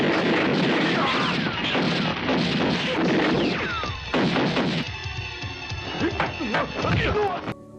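Rapid gunshots and heavy crashing impacts in a loud, chaotic film shootout, with raised voices mixed in and a brief lull near the end.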